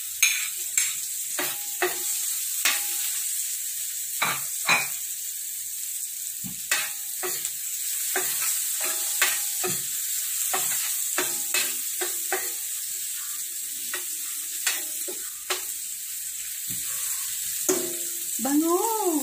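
Onion sizzles in hot oil in a pan while being cooked for menudo, with a steady frying hiss broken by repeated clinks and scrapes of a utensil stirring, close and loud, and a brief voice near the end.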